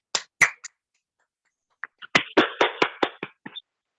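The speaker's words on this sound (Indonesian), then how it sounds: "berikan tepuk tangannya untuk kelompok 1 ini" A handful of people clap for a presenting group in a virtual class session: a few sparse claps, a short pause, then a brief run of distinct, close-miked hand claps tapering off.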